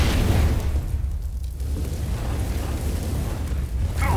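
An incendiary grenade in CS:GO on the Mirage map burns with a continuous low roaring rumble and crackle, steady and fairly loud, with a brief flare near the end.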